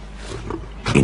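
A short, low growling grunt from a lioness at a waterhole swells up at the very end, over quiet outdoor background noise.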